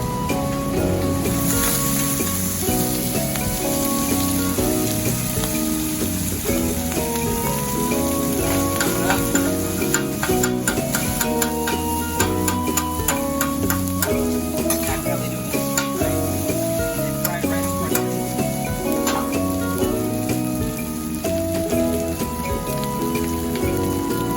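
Brisket, shoulder and pork belly sizzle and crackle steadily on a grill, with the fat crisping. The frying stays dense and close for the whole stretch, with faint stirring and clatter mixed in.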